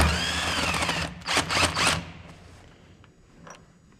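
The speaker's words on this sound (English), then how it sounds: "Let's go ahead and take this bolt out." A power tool whines and then rattles in short bursts as it backs a bolt out of the throat of a Gleaner R52 combine, up close, before tapering off to quiet with faint clinks.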